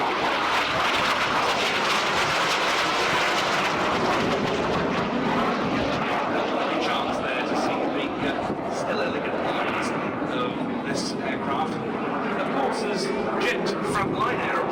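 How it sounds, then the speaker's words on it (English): A Hunting Jet Provost T3 jet trainer roars steadily overhead, loud and continuous, its broad engine noise filling the whole stretch with a slow shift in tone as it passes. "In from the right, the Hunting Jet Provost, T3."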